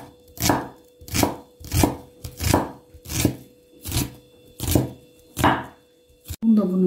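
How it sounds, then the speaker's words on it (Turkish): A knife chops an onion into small pieces on a board, about eight steady, evenly spaced thuds, close and clear with no talking. "Soğanımızı da minik doğrayacağız."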